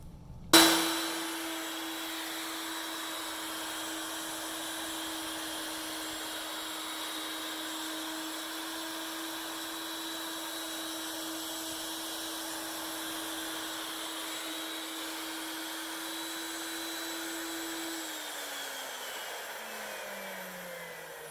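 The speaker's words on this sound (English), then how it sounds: "We'll go out in the shop and run it on our Techno CNC." Techno CNC router spindle cutting a prototype side-scan sonar fin in a shop: a loud, sharp start-up followed by a constant high whine held steady for about seventeen seconds before it winds down with a falling pitch.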